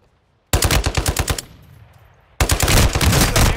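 Rapid SMG bursts in Call of Duty Modern Warfare II gameplay: two loud, close strings of fast automatic shots separated by a short pause, each rattling at a steady high rate with no talk over them.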